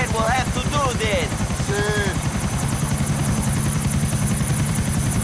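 Helicopters in the video game GTA IV, a loud continuous rotor chop with rapid rhythmic thumping and a high whine, steady and close throughout, with brief warbling tones layered over it early on.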